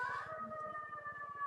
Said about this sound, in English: we hear the sirens in the background